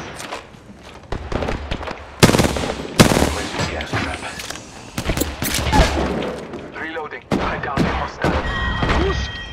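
Video game gunfire crackles in dense bursts and single sharp shots, with rapid automatic fire mixed with louder blasts. Close and loud throughout, with a voice talking briefly between the shots.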